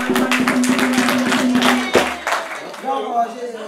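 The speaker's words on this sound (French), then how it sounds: "Applaudissez s'il vous plaît." Meeting attendees at a women's leadership movement launch in Mali clap in a quick rhythmic burst that fades after about two seconds, with a voice talking over and after it.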